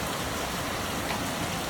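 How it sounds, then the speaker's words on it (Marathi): Heavy monsoon rain pours down at night beside a road, heard from under a shed during a group ride: a dense, steady hiss that stays loud and close throughout, with no voices. "एवढा जोरात पाऊस आहे ना."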